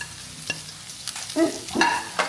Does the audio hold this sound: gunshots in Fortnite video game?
no